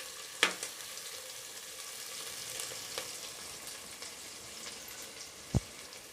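Onions and green chilli sautéing in a pan for a country chicken curry, with a soft, steady sizzle throughout and a couple of sharp utensil clinks near the start and end.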